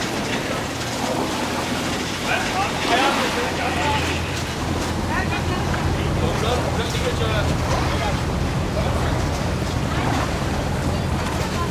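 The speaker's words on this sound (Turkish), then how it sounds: "arkadaşın teknesiyle açıldık denizin üstüne" A boat motors out across open sea, a broad, steady rumble mixed with wind buffeting the microphone and the wash of waves, loud and continuous throughout.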